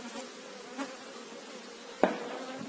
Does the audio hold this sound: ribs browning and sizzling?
no